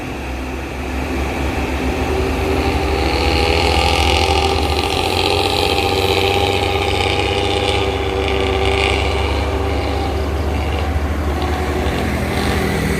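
A bus engine labors on a winding uphill road, a steady loud drone with shifting pitch and no talk, close and continuous throughout.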